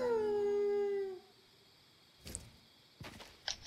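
A howl emote in the Fortnite video game gives one long, loud, wolf-like howl that slides down in pitch and lasts about a second. Faint clicks and game sounds follow it.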